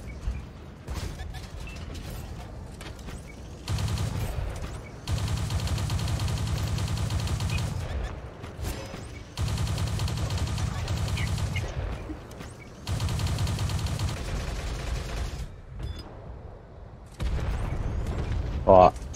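Heavy tank cannon shots in World of Tanks on console, several loud booming blasts with rumbling tails spaced a few seconds apart, mixed with game battle noise while players talk over voice chat.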